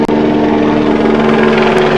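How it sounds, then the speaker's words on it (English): A helicopter passes overhead, its loud steady rotor drone and engine hum filling the whole stretch, close and continuous. "there's a helicopter flying over"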